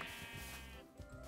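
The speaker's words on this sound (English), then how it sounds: "Oh, a sheep!" A sheep in the video game Minecraft gives a single wavering bleat, close and clear, heard alone with no talk over it.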